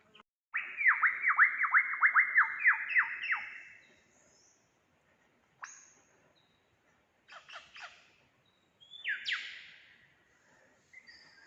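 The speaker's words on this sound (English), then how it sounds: "Bird song of Australia." Wild bird song near the top of Mount Sunday on the Australian Alps Walking Track: a fast run of descending whistled notes, then sharp chirps and a rising call after pauses, clear and fairly close in quiet bush.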